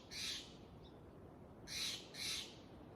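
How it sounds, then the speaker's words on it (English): A blue jay gives three harsh, nasal calls in a garden, one early and then a close pair near the end, fairly loud against quiet background hum. "Actually, it's a blue jay."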